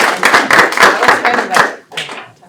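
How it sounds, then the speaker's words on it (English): Audience applause at a military PCS ceremony honoring a Sergeant Major, loud, dense clapping from a nearby crowd with rhythmic bursts that thin out and fade toward the end. "I think Sergeant Major needs an applause for reading through that so well."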